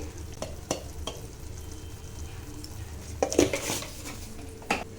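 A spoon stirs coriander and cumin powder into prawn curry in a pan, making scraping clinks against the metal in a few bursts over a soft frying sizzle, close and unaccompanied by speech.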